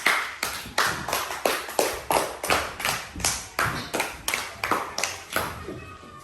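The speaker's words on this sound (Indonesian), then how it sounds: "Tepuk tangan untuk kelompok 4." A classroom of students claps for a student group in a steady, rhythmic pattern, with about sixteen sharp, evenly spaced bursts of applause and no talking.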